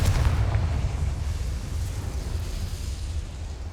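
Confringo fire spell going off in Hogwarts Legacy, a deep rumbling blast that starts loud and decays into a steady low roar for a few seconds.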